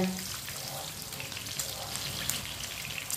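Onions frying in a pan, a faint steady sizzle with light stirring close by, low and continuous throughout.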